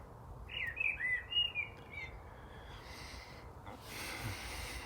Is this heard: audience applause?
no